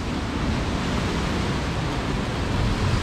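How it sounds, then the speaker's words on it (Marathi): Sea waves crash and surge steadily on the shore beside the hidden Karhateshwar Mahadev temple at Nandivade, giving a continuous, loud broadband roar with no pauses and no voices. "समुद्राच्या लाटा उसळत आहेत"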